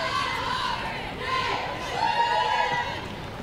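Stadium crowd at a women's college soccer match between Auburn and Texas A&M at Ellis Field, a steady, fairly distant roar of chatter and scattered cheering that swells slightly, with voices shouting over it.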